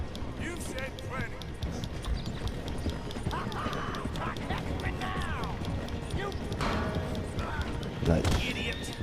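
Horse hooves clip-clop at a running pace in Red Dead Redemption 2, a steady rhythmic gallop beneath continuous character dialogue and game sounds.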